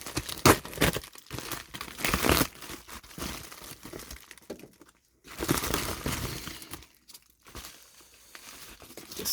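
A shipping package being cut open by hand, its packaging crinkling and tearing loudly up close in long rustling bursts separated by brief pauses.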